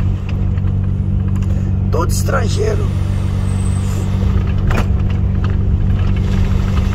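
Trucks and cars idle at a fuel station, a steady loud low engine rumble throughout, with a voice talking briefly over it.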